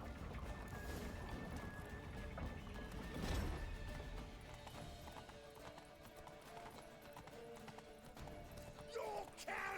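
Horse hooves clip-clop at a gallop in The Witcher 3 video game, a steady drumming run with an occasional whinny, under game music, crashes and shouted dialogue.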